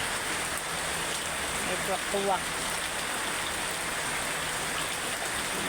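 Heavy rain pours steadily as a broad, even hiss that fills the whole clip, with a person speaking briefly partway through.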